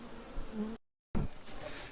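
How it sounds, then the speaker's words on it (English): Steady droning buzz of many queenless honeybees close by in a hive, broken by a brief total dropout before the dense humming resumes. "It's bursting with bees that are now queenless."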